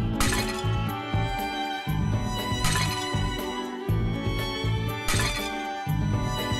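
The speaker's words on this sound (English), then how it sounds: "Is he smashing pots?" Pots being smashed in the game Mugen Souls: a run of loud ceramic shatters, roughly one every second and a half, each a crash of breaking pottery, over steady game music.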